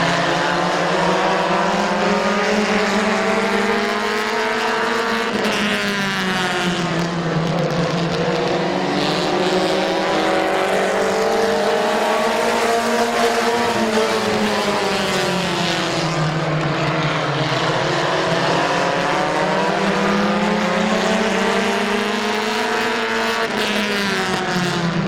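Race cars circling at Midvale Speedway during a fall classic event, a loud continuous roar of several engines with pitch swelling and falling as the pack passes, heard alone without talk.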